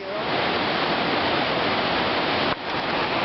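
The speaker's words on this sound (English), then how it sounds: "That is the one like fast moving river" A fast-moving river in Montana, heard from a deck, gives a steady, loud broadband rush of churning water that fills the whole stretch, with a brief dip near the end and no voices.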